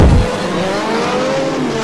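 Audi race cars charge around the Long Beach street circuit, engines roaring loud and close with a rising, revving note that holds steady after a heavy low burst at the start.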